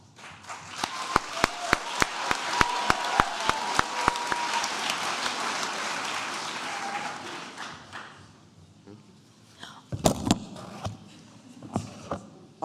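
Audience applause for graduating mid-year completers at a 2023 ceremony, a steady wash of clapping with sharper individual claps on top, fading after several seconds into a quieter room with a few scattered claps and thumps.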